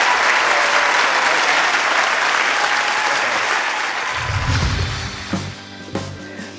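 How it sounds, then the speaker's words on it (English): A theatre audience bursts into loud, sustained applause for Hereford's singer at a junior talent semi-final, the dense clapping holding steady before thinning out near the end as music starts underneath. "a huge round of applause for Hereford!"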